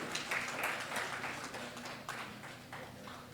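Faint, dense applause from a conference audience at a chartered accountants' association annual event, a steady smattering of claps spread through the whole stretch with a slight swell near the start.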